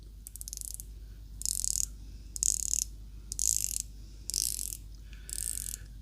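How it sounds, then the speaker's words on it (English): Unidirectional 120-click bezel on a Spinnaker Amalfi chronograph watch being turned in six separate bursts of rapid fine ratcheting clicks, close and crisp against a quiet room with faint low hum. "It's a 120 click unidirectional bezel. I will be quiet so you can hear that."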